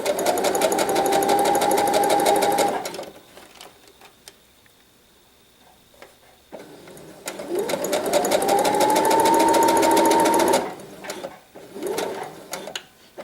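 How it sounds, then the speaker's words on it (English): A sewing machine stitches an infinity scarf in two long bursts of rapid, even needle clatter with a rising motor whine, separated by a quiet pause. Both bursts are close and loud, with a short extra run near the end. "Then I'm going to back stitch a little bit"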